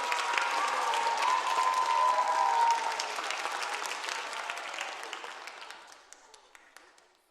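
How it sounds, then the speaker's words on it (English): Audience applause at a FIRST LEGO League Challenge robotics state championship in Western Washington, a dense, steady wash of clapping from a large crowd that holds loud for a few seconds and then gradually thins and fades out. "Let's give another round of applause for all of our volunteers, teams, parents, coaches, mentors"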